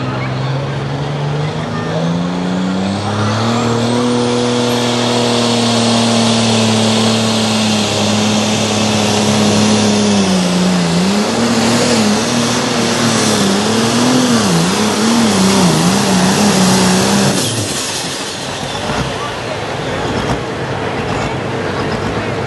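A pulling tractor's engine roars loudly at a tractor and truck pull in Langford, New York, its pitch climbing and wavering through the run before cutting off near the end, with crowd noise around it.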